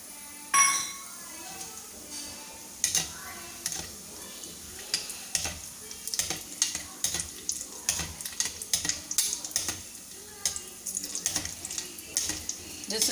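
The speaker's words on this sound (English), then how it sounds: "Now I'll put the cashew nuts." Cashew nuts go into a pan for poha chivda, with sizzling, clinks and scraping of a spoon stirring in uneven bursts, close by, and a voice speaking over it.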